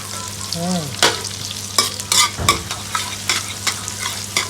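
Shallots sizzling in hot oil in a pan for frog tom yum, a steady fry broken by sharp metallic scrapes and clacks of a spatula stirring at irregular intervals.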